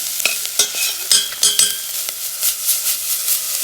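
Onions sizzle and fry in a pan at a campsite while a utensil stirs them, giving several distinct scraping strokes over a steady, bright hiss. No one speaks.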